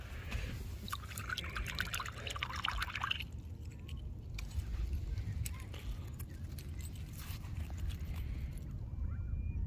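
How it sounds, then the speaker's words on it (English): Old metal keys from a 1930s swimming hole being rinsed and swished in water, with steady pouring, dripping and trickling sounds up close over a low background rumble. "let's get them all cleaned up in the water"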